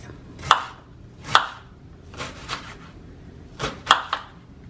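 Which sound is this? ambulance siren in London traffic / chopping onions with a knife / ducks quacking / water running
chopping onions with a knife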